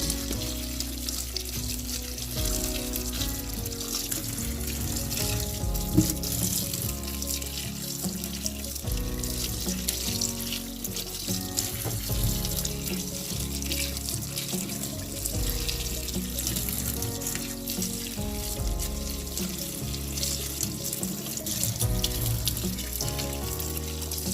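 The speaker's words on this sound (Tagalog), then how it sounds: "Ang ating mga gulay ay hugasan muna natin ng mabuti" Tap water runs steadily into a kitchen sink as vegetables for Ilocano pinakbet are washed, a continuous close splashing hiss with faint clinks, no talking.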